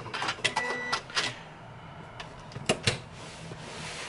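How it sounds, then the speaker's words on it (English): A sewing machine reverse stitches fabric in short mechanical bursts of whirring and clicking, close by, separated by brief quieter pauses. "I'm just going to reverse stitch a few times and run over it a few times to make sure"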